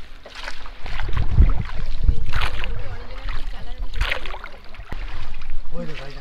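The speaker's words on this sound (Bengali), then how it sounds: "নিয়ে নিয়েছি হাতে টানা নৌকা আর চলেছি আমরা সবুজ দ্বীপের পথে" A hand-pulled boat crossing Maithan lake toward Sabuj Dwip, with a steady wash of water and wind running throughout. It is fairly loud and close, a few soft knocks come through, and a voice talks over it.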